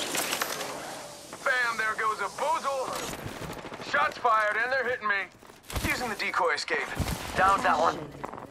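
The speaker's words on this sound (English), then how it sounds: "Getting shot at." Gunfire striking the player in Apex Legends: sharp shots and impact bursts scattered under frequent close-up talking, with a couple of loud broadband hits standing out.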